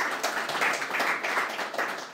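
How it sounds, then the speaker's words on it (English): Applause from a town committee candidate forum audience, a steady patter of hands clapping that fills the room for about two seconds without a break. "Round of applause for both candidates and their opening statements."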